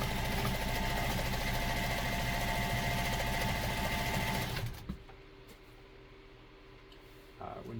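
A White 1514 sewing machine stitches fabric with a loud, fast, steady mechanical whirring rattle up close, then stops and leaves quiet room tone with a few faint handling sounds.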